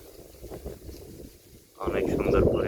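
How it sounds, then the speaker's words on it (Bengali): Strong gusts buffet the microphone outdoors near hills, a mosque and a garden, a steady low rush that swells sharply louder in the second half, with speech faintly mixed under the noise. "সকাল থেকে ঘুম থেকে উঠেই দেখি যে বাতাস, প্রচুর পরিমাণ বাতাস।"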